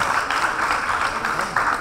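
Applause at a saints' conference, dense steady clapping from a crowd filling the short stretch without pause.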